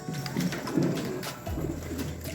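White wedding pigeons coo softly and repeatedly in a loading area, a close, low, throaty rhythm of a few calls with no talking.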